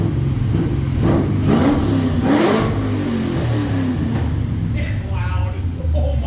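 Cadillac CTS-V fitted with an aftermarket full exhaust revving hard nearby, its deep rumble rising and falling through several throttle blips and settling toward idle, with people talking over the engine.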